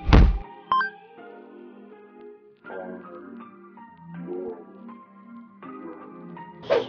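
A DV8 Captiv8 bowling ball thuds onto a fresh Big Ben oil pattern and rolls down the lane with a sustained rumble, ending in a loud crash of pins, heard up close and alone.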